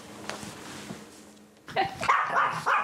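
Near the end, puppies let out a cluster of high yips and barks, louder than the quiet, faintly rumbling unheated room in Kyiv before them.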